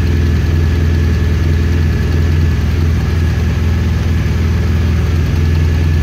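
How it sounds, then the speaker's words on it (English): Loud, close idling of a 2017 BMW R1200RS motorcycle engine, a steady low throbbing rumble that holds even and unbroken throughout, with no voices. "it's a nice engine note of it."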